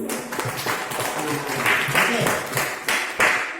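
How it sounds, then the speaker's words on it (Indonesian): Students in a physics class join in a short round of hand clapping, a loose patter of claps at moderate loudness while a teacher speaks briefly over it. "Kesimpulannya kita tepuk tangan dulu."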